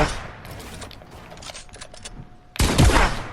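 Gunfire in the battle royale game Fortnite: faint scattered shots and clicks give way to a loud, sudden burst of rapid firing near the end.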